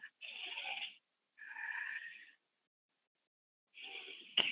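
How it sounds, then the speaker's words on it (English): Deep breaths taken during a yoga session: three long, airy breaths, close to the microphone, separated by silent pauses, with no talking. "take a couple of big deep breaths here"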